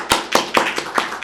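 A few sharp hand claps ring out in quick succession at a Sunday church service, welcoming a member. The claps are loud and close and come at an even beat, with no talking.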